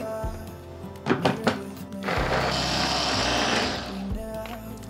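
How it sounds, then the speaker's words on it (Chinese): A small electric food chopper grinds chunks of king oyster mushroom in a steady, whining burst of about two seconds, preceded by a few light knocks as the pieces go in. "把杏鲍菇放入搅碎机里"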